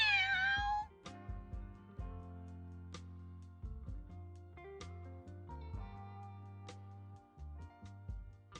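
A single drawn-out cat meow rings out at the start, followed by steady, soft musical tones with occasional light clicks.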